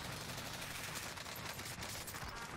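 Sustained automatic gunfire in a Warzone match, a dense, steady roll of shots running the whole time at moderate loudness, with no voices over it.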